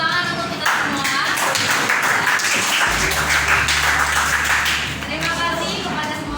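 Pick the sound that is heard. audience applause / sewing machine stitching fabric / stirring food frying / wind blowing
audience applause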